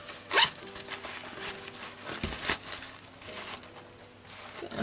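A zipper runs along a pencil case in several quick, close raspy pulls, each a short scratchy burst, with faint handling noise between them.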